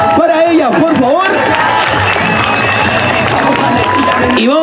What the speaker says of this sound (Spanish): Fuertes los aplausos para ella, por favor.